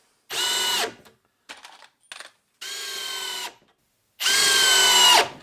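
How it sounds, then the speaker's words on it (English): A 12-volt power drill drives three screws in three separate loud whirring bursts, each one ending as the motor strains and stops, with faint clicks and handling noises between the bursts. "we're going to put some three screws in"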